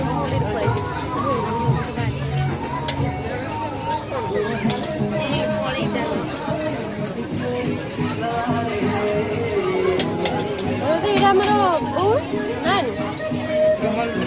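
Dense crowd hubbub at a wedding reception party, with many overlapping voices and children's chatter filling the space continuously and fairly loud throughout.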